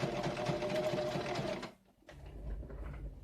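A sewing machine stitches back and forth across a patch on a pair of work pants, whirring steadily at close range for about a second and a half, pausing briefly, then running again more softly.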